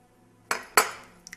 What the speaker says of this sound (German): Neues Geschirr.